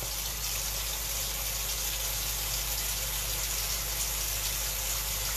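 Tap water runs steadily from a faucet as skincare product is rinsed off a face, a loud continuous gushing stream heard up close with no voices.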